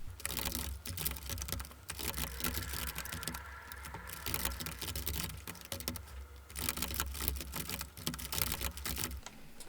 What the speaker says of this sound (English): Here you have to type in a few commands